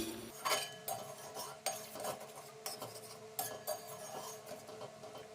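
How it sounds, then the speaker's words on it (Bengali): A metal spatula stirs a watery spiced gravy in a pan for an egg bati bhapa dish, giving a series of clinking, scraping strokes at an irregular rhythm, close but fairly soft, with no talk. "জল দিয়ে দিলাম এরপর খুন্তিটা দিয়ে একটু ভালো করে নেড়ে নিই"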